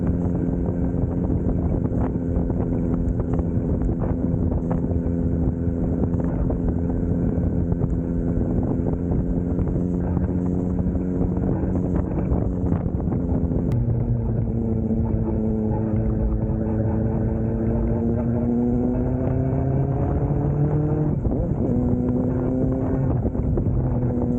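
A Kawasaki ZX-4R sport motorcycle's steady engine drone rises and falls in pitch as it revs, running continuously under rushing wind noise while riding, sounding close and fairly loud.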